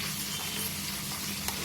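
Okra (bhindi) fries in a pan with a continuous, gentle crackling sizzle, steady and close, with no voices.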